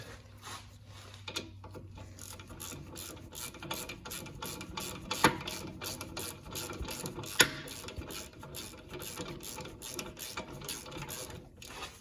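A ratchet with an 18 mm socket tightens a brake bolt on a Dodge Durango during a rear brake and rotor job. Rapid, continuous clicking of the pawl runs close and steady throughout, with no talking.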